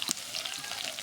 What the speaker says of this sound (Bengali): এবার দেওয়া হচ্ছে কুচলা করা রসুন